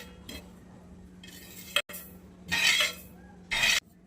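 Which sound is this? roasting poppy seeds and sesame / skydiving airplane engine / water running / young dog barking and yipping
roasting poppy seeds and sesame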